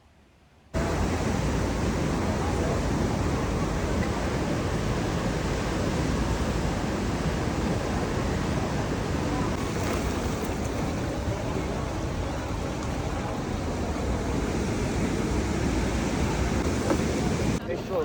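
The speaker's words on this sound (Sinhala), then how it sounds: "ඔය කියන්නේ වතුර පාර ප්‍රෙෂර් එක වැඩි වතුර පාර සැර වැඩි" Strong, high-pressure water rushing at a river surfing spot in Germany, a dense, steady roar that fills the whole clip close and loud without pause.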